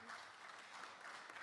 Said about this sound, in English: sorry, I keep forgetting to let you applaud